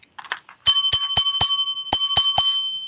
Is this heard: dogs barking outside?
no